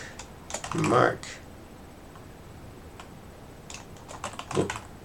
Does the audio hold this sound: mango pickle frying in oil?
no